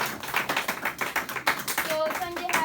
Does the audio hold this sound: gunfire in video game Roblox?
no